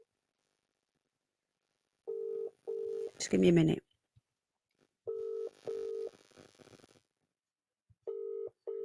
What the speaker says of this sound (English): Let me just see if I might give her a quick ring